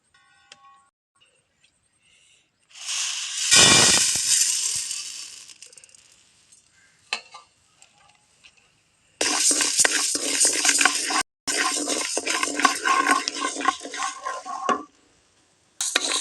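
Urad dal being stirred and roasted dry in a pan, loud gritty scraping and rattling of lentils against metal in bursts separated by quiet pauses, close by and without speech.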